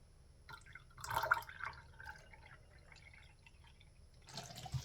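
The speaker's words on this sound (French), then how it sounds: "On va mettre de l'eau" Water is poured into a glass holding homemade strawberry syrup, giving a soft splashing trickle that swells briefly and then settles under a low background hum.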